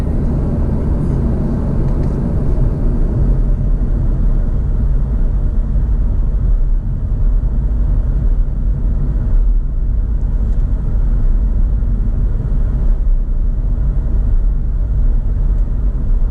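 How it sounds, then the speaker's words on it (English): Steady low road rumble of traffic, including trucks, on a Michigan highway near I-75, heard continuously from inside a moving vehicle with no talking. "a lot of trucks there."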